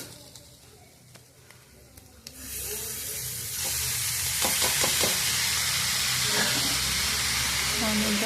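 Vegetarian chow mein stirred in a hot frying pan, a steady loud sizzle and hiss with scraping clicks of the utensil against the pan, starting after a quieter opening.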